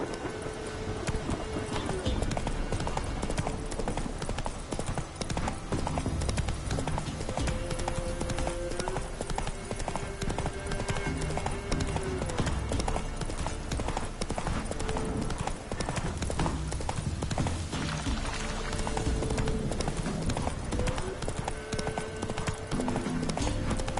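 Horse hooves clip-clop steadily in a video game, a continuous rhythmic clatter at a brisk pace, with a faint tonal music-like layer and occasional voice beneath.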